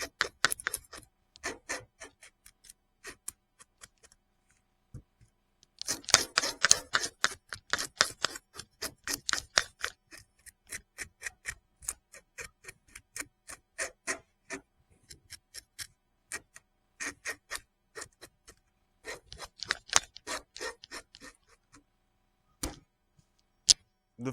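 A hand fish scaler scrapes scales off fresh-caught fish in quick rhythmic strokes, a dry ticking rasp repeated in bursts with short pauses between runs, close and fairly clear.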